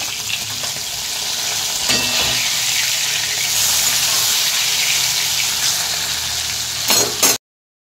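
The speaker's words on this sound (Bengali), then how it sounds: "মাছ ভাজা প্রায় কমপ্লিট" Fish fries in a pan in a home kitchen, a steady close hissing sizzle with crackling spatters running unbroken until it cuts off abruptly.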